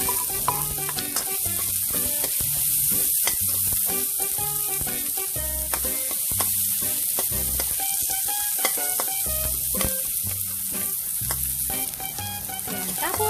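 Garlic and onion sautéing in a pan for pork giniling, a steady loud sizzle with repeated scraping and clanking of a spatula stirring in a regular rhythm, close and without voices.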